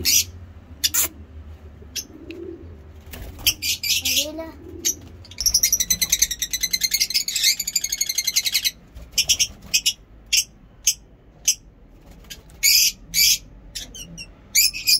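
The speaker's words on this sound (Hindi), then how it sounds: "बहुत खूबसूरत आवाज़ है हमारे परिंदों की, आप देख सकते हैं" Pet parrots and other caged birds calling, a mix of sharp high chirps, squawks and rapid trilling bursts, close and loud, with some low coo-like sounds and a person talking briefly early on.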